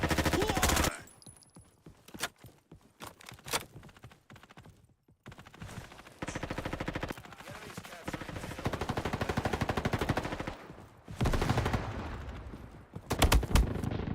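Gunfire in the video game Delta Force: loud bursts of automatic fire and scattered single shots, some close and heavy, with quieter gaps between, under a player's occasional speech.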